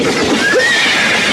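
A horse whinnies loudly and close by, a single rising-falling neigh over steady background noise, with no talk.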